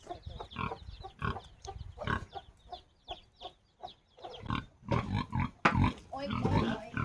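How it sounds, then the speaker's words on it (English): Pigs grunt on a farm while waiting to be fed, with repeated short grunts and snorts coming at an uneven, restless rhythm, close and moderately loud, with no talking. "The pigs are impatiently waiting for their food."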